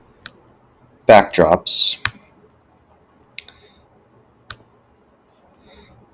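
Sharp, isolated computer mouse clicks spaced a second or so apart on the Scratch paintbrush button, with a brief spoken word in between.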